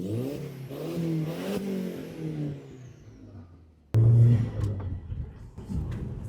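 Car that sat unused for 20 years, an Audi TT or Mini Cooper S, accelerating down the road: a rising engine whine shifting up through revs, then a louder, rougher surge of engine and road noise.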